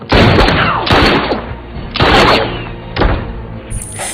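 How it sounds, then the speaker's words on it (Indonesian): Gunfire from the horror film Scream (2022), four heavy booming shots about a second apart, each loud and close with a ringing decay, followed by a faint high tone at the end. "Dan langsung menembak Gail."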